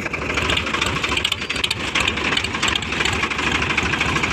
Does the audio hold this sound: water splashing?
no